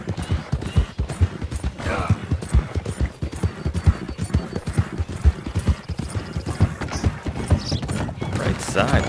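Steady rhythmic hoofbeats pound along continuously in Red Dead Redemption 2, a galloping clip-clop that stays loud and close throughout.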